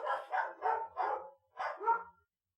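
Several dogs barking indoors, six quick barks in a steady rhythm with a short pause before the last two, fairly near and not loud.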